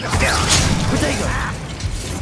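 A Protego shield spell in Hogwarts Legacy gives off a loud, shimmering magical whoosh with metallic, crackling textures that rings for about two seconds amid combat noise.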